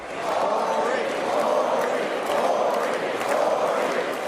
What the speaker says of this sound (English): The crowd chanted his name in unison.